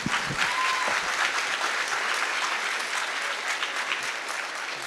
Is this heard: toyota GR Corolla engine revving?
no